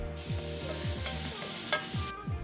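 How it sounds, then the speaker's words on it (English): Onion and garlic sizzle in a pot while being stirred, with soft scraping of a utensil against the metal and a steady frying crackle. "I sauteed the onion and garlic in a large pot"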